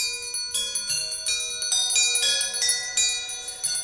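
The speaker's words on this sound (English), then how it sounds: "But soon it rang out loudly, and then so did every bell in the house." Many bells in a house ring together in a loud, sustained clangor, their overlapping tones layering into a bright, shimmering wash with no voices, in a radio drama.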